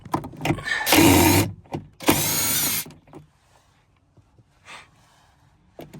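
Power tool removing 10mm bolts inside a Dodge Grand Caravan, two loud whirring bursts about a second each, then quiet with faint clicks and a short later burst.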